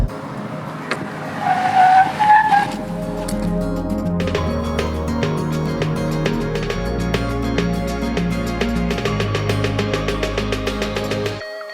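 A 2020 Hyundai Verna under panic braking, its ABS pulsing as the tyres squeal sharply for about two seconds, then a steady close engine and road drone carries on alone.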